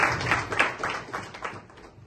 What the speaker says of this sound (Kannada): ಹಾಗೆ ಚಪ್ಪಾಳೆ ತಟ್ಟುತ್ತಾ